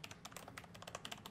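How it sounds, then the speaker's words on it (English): Rapid, fairly quiet clicking and clacking of keys on a Logitech G513 Carbon mechanical keyboard, in an uneven run of typing with no pauses. "So let's do a little more typing here."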